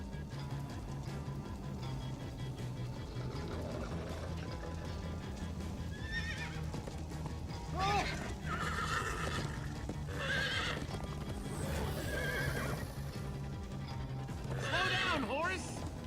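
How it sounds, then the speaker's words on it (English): Horses whinny several times over a steady rhythm of galloping hooves in Minecraft: Story Mode, with a low rumbling background throughout. "Slow down, horse!"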